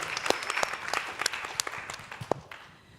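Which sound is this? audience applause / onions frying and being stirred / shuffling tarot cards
audience applause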